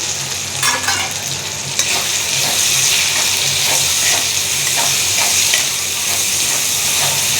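A spoon stirs turmeric, chili powder, salt and coriander powder frying in a hot pan, giving a steady, close sizzle with scraping strokes throughout and no voices.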